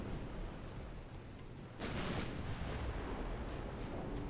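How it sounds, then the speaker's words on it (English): Naval guns on dreadnought-era warships trade fire in Ultimate Admiral Dreadnoughts; a rumbling battle backdrop swells into a heavy, booming blast partway through, followed by a sustained roar of distant gunfire. "returning fire against each other"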